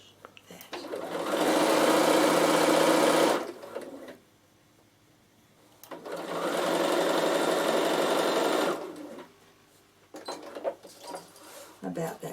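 A Bernina sewing machine runs a quarter-inch seam in two steady bursts of close, even whirring stitching, each about three seconds long, separated by a pause, with some faint movement afterward.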